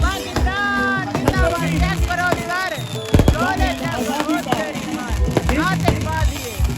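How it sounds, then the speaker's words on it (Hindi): Fireworks crackle and pop in sharp bursts, with whistling rising tones and loud bangs scattered throughout, under a steady crowd-like background. "यहाँ पे आतिशबाजी का नजारा रखा जा रहा है"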